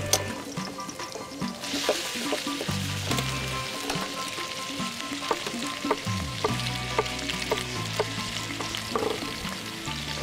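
Onions and garlic fry steadily in a pan with a continuous broad sizzle and occasional stirring clicks, while a low rhythmic music bed plays underneath throughout.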